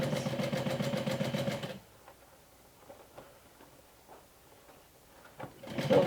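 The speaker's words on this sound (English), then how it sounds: "I'm gonna have to go back and do a few more stitches" A sewing machine stitches a seam on a mini top hat, giving a fast, even, close mechanical rattle that stops abruptly. Quiet handling taps follow, and the machine starts again briefly at the end.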